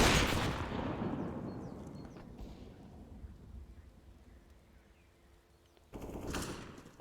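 Heavy gunfire in a first-person shooter match between GSG9 and Rise in an ESEA relegation series: a loud burst of shots opens and slowly fades, followed by a quieter lull and then another sharp volley near the end.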